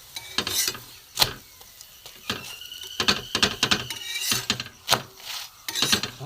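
Pea-stuffed paratha frying in a little oil, heard as light sizzling broken by sharp utensil clinks and scrapes against the pan, close and irregular, with no talking.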